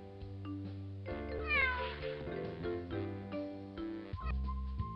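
Bonzo, a cartoon cat in the Putt-Putt Enters the Race video game, meows in several drawn-out, wavering cries over a steady musical backing, loud and close.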